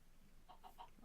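A chicken in the Minecraft video game gives a few short, quiet clucks in quick succession, faint and alone, with a soft thump right at the end.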